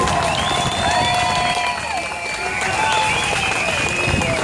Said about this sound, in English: You guys better clap every second she's walking up here.